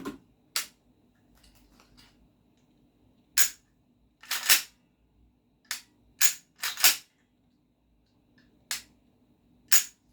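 A rebuilt GHK AKMN gas blowback airsoft rifle with short-stroke two-stage recoil fires sharp, close, isolated cracks, mostly single shots with a few quick pairs and irregular gaps between them, set against a quiet background.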